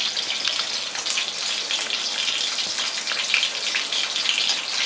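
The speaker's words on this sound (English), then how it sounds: "we're going to get back to the cheese ravioli that we're frying" Cheese ravioli frying in a pan of oil, a steady, dense crackling sizzle with fine popping spatters that holds up close and fairly loud throughout.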